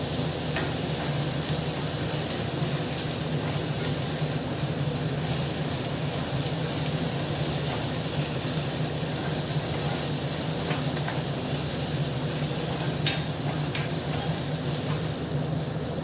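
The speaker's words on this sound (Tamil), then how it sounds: "இப்போ இதில் இஞ்சி பூண்டு சேர்த்துக்கலாம். நல்லா பச்சை வாசனை போகிற வரைக்கும் நல்லா வதக்கி விட்டுறலாம்." Ginger and garlic sautéing in a pan until the raw smell cooks off: a dense, even frying sizzle holding steady throughout, with faint occasional utensil ticks and one brief clink near the end, no voices.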